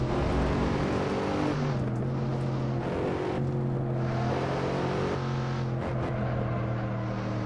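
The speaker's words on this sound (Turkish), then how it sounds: "Lastik sesi geliyordur size de." A BMW M5 F90 in the racing game Assetto Corsa holds a loud, continuous engine drone, with the note shifting between steady pitches as the tires squeal under sliding.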